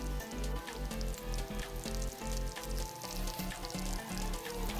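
Hot oil crackling during tempering for gongura dal, a dense close sizzle with rapid popping and spitting bursts pulsing irregularly, fairly quiet overall with no voices.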